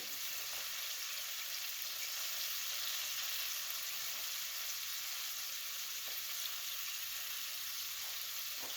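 Gravy sauce simmers and reduces in a pan for a Japanese steak bowl, giving a soft, even, continuous sizzle with no talk over it.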